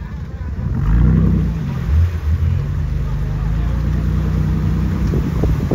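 A vintage Chevy Blazer crawling off-road, its engine holding a loud, steady low rumble with a brief rise in revs near the start, close up throughout.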